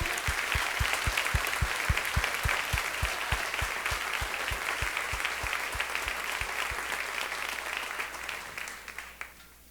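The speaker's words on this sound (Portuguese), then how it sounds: "dá um forte aplauso ao Senhor" A church congregation claps loudly and steadily, with a strong rhythmic beat of low thumps running under the applause for most of the stretch, then the noise dies away at the end.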